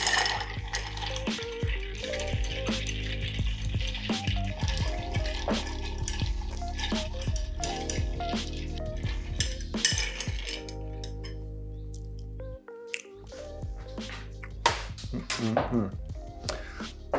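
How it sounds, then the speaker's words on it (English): Ice clinks and rattles against a mixing glass as an Old Fashioned cocktail is stirred, a steady busy jingle of cubes and glass lasting the whole stretch, close and fairly loud. "Add plenty of ice to the mixing glass and give it a stir for about 30 or 40 seconds."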